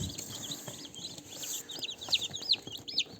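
Newly hatched chicks under a warming lamp give repeated high, thin peeping chirps, several overlapping in quick bursts close by, over a soft rustling, scratching background.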